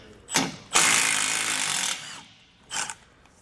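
Socket wrench loosening the bolts that hold a bumper to a truck hitch, with a short ratcheting burst, a longer loud grinding run and a final brief burst, close and alone.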